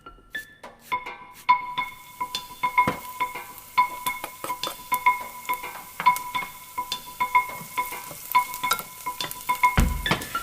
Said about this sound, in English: you have your onion and your garlic sizzling